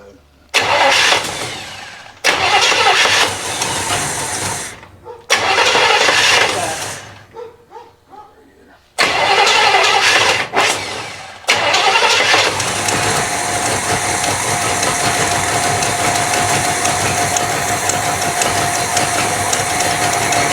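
A 1965 El Camino engine cranks and catches in several loud bursts, then settles into a continuous rough idle on choke, close by.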